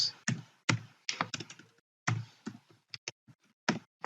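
Computer keyboard typed on during ArchiCAD GDL scripting work: close, crisp key clicks in irregular bursts with short pauses, some keystrokes louder and heavier than others.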